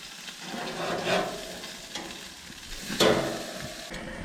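Hamburger patties sizzling on a Monument gas grill after flipping, a soft steady sizzle punctuated by a few scraping spatula strokes and clicks, close and fairly quiet with no talking.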